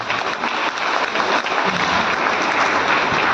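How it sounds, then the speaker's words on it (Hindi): Loud, dense applause from an audience honouring teachers, a continuous wash of clapping with no talk over it. "मैं चाहूँगा सभी गुरुजनों को एक जोरदार ताली होनी चाहिए।"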